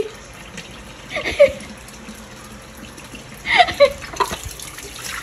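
Water runs from a tap during dishwashing, a steady hiss with louder splashes and clinks in two bursts, with a little talk nearby.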